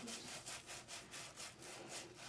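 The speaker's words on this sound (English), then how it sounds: "I'm going to start scrubbing on the outside of my index finger, and I'm going to scrub each side of my fingers 10 times." Hands and fingers scrubbed with a brush during a surgical hand scrub for anesthesia and surgical assisting, giving steady rhythmic back-and-forth rasping strokes, about ten in quick succession, close and fairly quiet with no talking.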